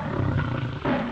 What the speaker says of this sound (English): sounds like a lion